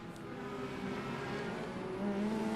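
Open-wheel race cars run bunched together on a Gulf Coast race track, a faint, steady engine drone with rising pitch as the pack passes at a distance.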